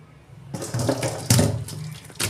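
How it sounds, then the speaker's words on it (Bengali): Boiled taro leaves being poured off, water splashing and draining through a perforated bowl in a kitchen, in two or three close, loud gushes. "আমি এবার ঢেলে জলটা ঝাইরে নিচ্ছি"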